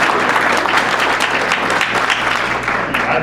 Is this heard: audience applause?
yes